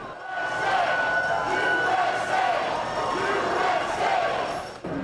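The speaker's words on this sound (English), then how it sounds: "waving flags, brandishing signs, and cheering for the returning veterans" A large homecoming crowd loudly cheering and shouting for returning veterans as flags and signs wave, a dense sustained roar of many voices close by.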